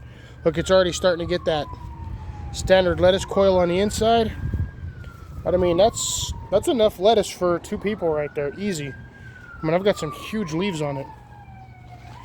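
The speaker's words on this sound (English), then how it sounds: "pardon the siren noises" An emergency vehicle siren sweeps slowly up and down as it passes nearby a home garden, sustained and fairly prominent beneath someone talking continuously.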